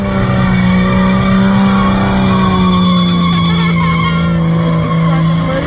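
A rally car performs a burnout at a Proston Rally Club khanacross event, its engine roaring steadily at high revs while the tires squeal and skid continuously, loud and close throughout.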